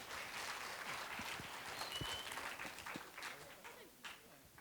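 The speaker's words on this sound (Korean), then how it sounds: "큰 박수로 맞이해 주시기 바랍니다." Audience clapping greets a radiation science lecturer at a public science talk, a steady, dense wash of applause from a seated crowd that tapers slightly toward the end, with no voices standing out above it.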